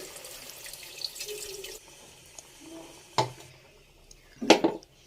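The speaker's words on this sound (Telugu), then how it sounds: "చింతపండు రసం అయితే ఇందులో వేసుకున్నామండి" Tamarind juice is poured into a simmering sea-fish curry, giving faint liquid trickles and a couple of brief, louder splashes near the end, close up with no talk.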